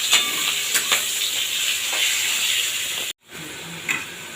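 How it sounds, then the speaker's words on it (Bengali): Potatoes and green chillies fry with black cumin in hot oil, giving a loud, steady close-up sizzle that drops out briefly for a moment before resuming. "এবার ওই তেলেই দিয়ে দেবো কালো জিরে ফোড়ন আর দিয়ে দেবো আলু আর কাঁচা লঙ্কা।"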